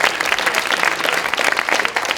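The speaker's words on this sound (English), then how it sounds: "so a big round of applause" An audience claps vigorously at a costumed live show, dense, even applause filling the whole moment with no pauses.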